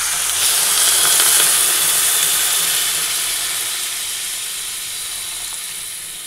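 Liquid for curry gravy poured onto fried spices in a hot pan, bursting into a loud bright sizzle and steamy hiss that slowly fades as it settles.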